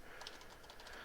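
Quick typing on a computer keyboard while a file name is entered, a short run of light, close clicks at steady pace with no voice.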